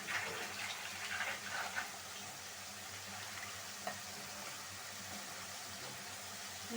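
Spice masala sizzles and fries in a pan for Bengali jali kumra and hilsa curry, giving a steady close hiss with faint stirring scrapes and an occasional brief clink.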